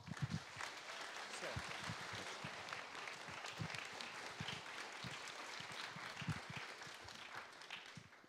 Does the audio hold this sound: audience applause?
yes